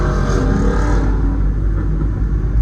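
A purple supercar's engine at a Kent Island cars and coffee gathering rumbles loud and close, a heavy steady roar with slight rise and fall, no talk over it.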